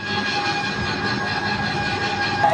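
A train at a railway station gives off a continuous close rumble with a steady humming drone, unbroken for the whole stretch and with no voices.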